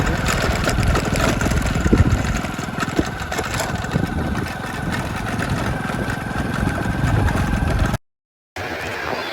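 A motorcycle engine idles and runs steadily nearby, a constant droning rumble throughout before a brief cut to silence near the end.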